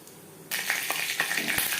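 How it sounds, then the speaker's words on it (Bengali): Panch phoron and bay leaves hit hot refined oil, bursting into a loud, steady sizzle after a brief quiet start, with a few crackling pops as the whole spices fry. "দিয়ে দিলাম পাঁচ ফোড়ন তেজপাতা পাঁচফোড়ন তেজপাতা ভেজে নেওয়ার পর"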